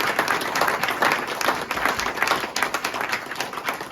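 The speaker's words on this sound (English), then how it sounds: "So one more round of applause." A round of applause at a city council meeting honoring a state champion, a close, dense burst of clapping from the room that carries steadily through the whole stretch without speech.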